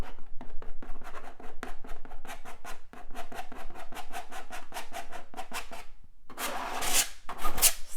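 A paintbrush spreads blue paint across a painting in quick, rhythmic scrubbing strokes, soft and close, ending in a brief louder swish.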